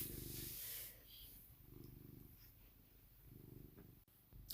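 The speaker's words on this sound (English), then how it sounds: "I don't know if y'all can hear my cat. He is purring so loud." A house cat purrs loudly and close by, the low rumbling purr pulsing steadily in long breaths with brief gaps between them and no voices.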